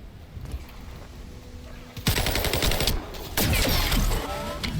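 Rapid bursts of automatic gunfire from a maxed-out weapon in a video game, with a quieter stretch opening into dense, loud sustained firing and a brief break before another heavy volley.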